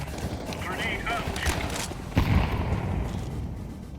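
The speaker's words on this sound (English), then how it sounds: "Grenade out." Grenade blast in a multiplayer shooter game, a sudden low thump partway through, set amid steady gunfire and squad chatter, with voices talking over the din.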